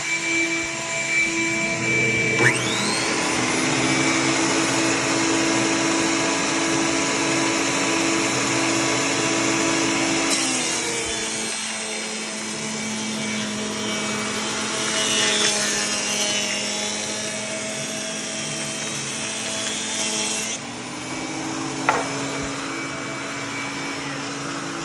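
Grizzly G0940 wood planer runs with a loud, steady whine close by, its pitch dropping as boards feed through and rising again as each pass ends, with no voices.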